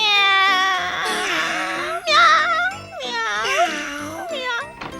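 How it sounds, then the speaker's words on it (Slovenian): Kittens meow in a Slovenian children's cartoon about a puppy, several high, wavering cries in close succession, loud and near, with a light tinkling sound mixed in. "Mucki."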